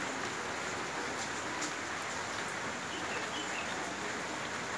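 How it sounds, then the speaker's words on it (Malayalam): Steady monsoon rain falls in a dense, even hiss with faint drips, continuous and fairly quiet, with no voices. "മഴയാണ്"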